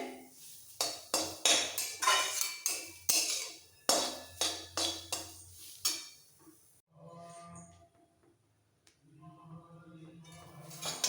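Grated carrot halwa stirred while frying in a pan over medium-low flame: a run of sharp, repeated utensil scrapes and clinks against the pan for about six seconds, then quieter, sparser scraping.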